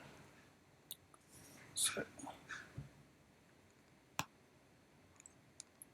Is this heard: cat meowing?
no